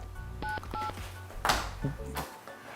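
Telephone keypad tones from a number being dialed, several short beeps in uneven rhythm, close and clear over a low background hum, with a brief thump partway through.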